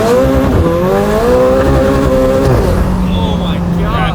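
A sports car driven hard with traction control fully off, its engine droning loud and steady with rising and falling pitch as it revs, close and continuous, with voices talking over it.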